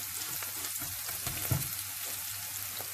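Salted mixed vegetables for upma frying in a pan, a soft continuous sizzle with occasional stirring scrapes and one louder clunk midway, close but fairly quiet, no talking.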